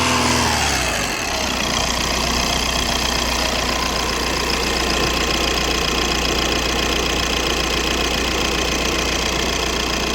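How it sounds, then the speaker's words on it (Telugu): An Audi A4 diesel engine idles close up in a steady, rough, knocking rumble after a brief higher rev settles down at the start. "ఇంజన్ నాయిస్ని మనం ఇక్కడ అబ్జర్వ్ చేయొచ్చు"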